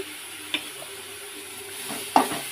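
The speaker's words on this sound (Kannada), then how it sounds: "ಚೆನ್ನಾಗಿ ಕೈ ಆಡಿಸಿ ಸ್ವಲ್ಪ ಬಿಡೋಣ." Vegetable pasta is stirred in a pan while it cooks. A faint sizzle carries a few soft scraping and clinking strokes, with one sharper utensil knock near the end, and no one speaks.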